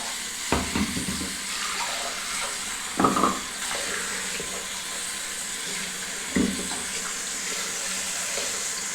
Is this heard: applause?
no